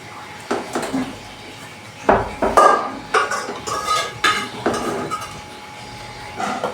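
Vegetable rice being stirred in a metal cooking pot (sufuria), with repeated scraping and clinking of a spoon against the pot in uneven bursts, close and fairly loud, with brief talk in the background.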